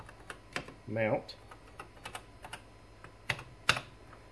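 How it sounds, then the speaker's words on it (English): Keys clatter on a TI-99/4A computer keyboard in an irregular run of close clicks, with someone speaking briefly between the keystrokes. "I'm going to type in call"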